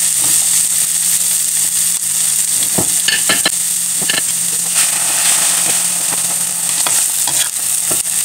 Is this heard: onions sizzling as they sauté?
yes